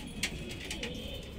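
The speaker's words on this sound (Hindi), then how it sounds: "तो ये है ब्रीडिंग वाले कबूतरों का सेटअप, ये देख लीजिए।" Panjabi breeding pigeons coo in a rooftop loft in Indore, soft rolling calls repeating over a steady, dense background hum at close range.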